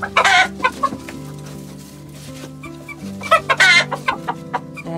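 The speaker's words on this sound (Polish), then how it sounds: "kogut dosiada kurę" Greenleg Partridge hens cluck and squawk close by in bursts inside a coop in the morning, with a rooster mounting a hen among them and steady low clucking in between.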